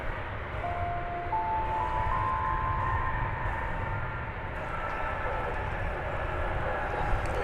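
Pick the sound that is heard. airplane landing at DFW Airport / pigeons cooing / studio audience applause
airplane landing at DFW Airport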